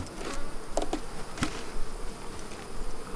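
Honeybees hum faintly inside an opened, weak beehive in a bee yard, a steady soft buzz with a few brief louder passes close by.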